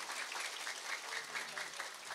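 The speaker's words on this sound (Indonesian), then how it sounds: "Tepuk tangan untuk Pak Bupati." An audience applauds for a regent at a public gathering, a brief, steady patter of clapping heard from some distance at low volume.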